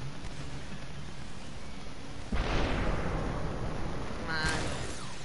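A shotgun blast in the video game Superhot, a single loud burst that cuts in mid-clip and trails into a noisy rumble. A second, sharper sound follows near the end.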